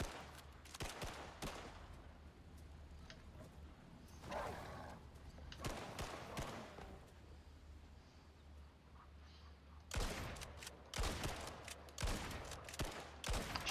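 Shotgun blasts in the survival video game Icarus, a few heavy booming shots spread through a quiet rumbling background, with a louder cluster near the end.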